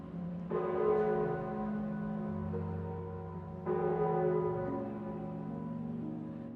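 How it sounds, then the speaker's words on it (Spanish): A large bell at Puebla Cathedral rings with two deep, sustained strikes, each leaving a long humming decay that fills the space between them. "esta es la tercera campana que existe, consagrada a la misma Virgen María."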